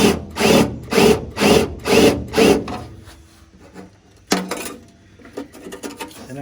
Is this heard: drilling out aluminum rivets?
yes